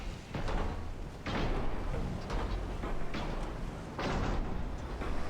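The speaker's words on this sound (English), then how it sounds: "Automatic 6-inch gunfire appears to be doing most of the work for us." Automatic 6-inch naval guns firing in a warship video game, heavy booming shots repeating roughly every second or so, with rumbling decay between blasts and no talk over them.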